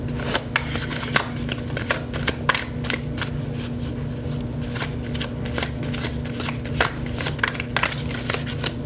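Tarot cards shuffled by hand in a rapid, continuous riffle of crisp slaps and flutters, close and steady for several seconds over a low background hum, with no talk.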